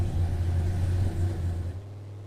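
Turbocharged LS-powered rat rod engine revving hard during a pull, a loud, low rumbling drone that holds steady and then eases off near the end.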